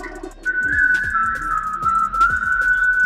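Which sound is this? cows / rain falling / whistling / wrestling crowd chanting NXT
whistling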